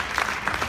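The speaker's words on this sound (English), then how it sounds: "It's okay, you can clap." Audience applause at a campaign rally for a pro-Trump California gubernatorial candidate in Fresno, a brief patch of steady clapping from a moderately distant crowd with no talk over it.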